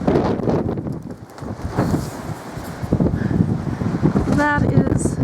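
Strong gusting wind during a windstorm roars and buffets the microphone in a steady low rumble, with a person's voice heard briefly over it.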